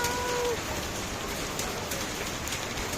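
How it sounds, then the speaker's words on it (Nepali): Hail pelting a tarpaulin in Damak, Jhapa, a dense steady patter of hailstones and rain drumming on the plastic sheet throughout, loud and close with no talk. "तिरपालभरि असिनै असिना आयो"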